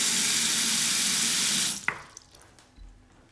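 Water runs steadily from the faucets into both bathroom sinks, a loud, even broadband rush that cuts off abruptly partway through, leaving a few faint drips and small knocks in a quiet room.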